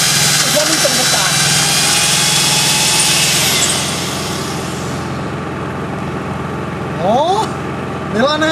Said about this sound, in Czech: Dělej příklep, Jirko.